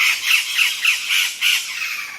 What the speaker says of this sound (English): It's early morning at El Mirador, just at the sound of the birds.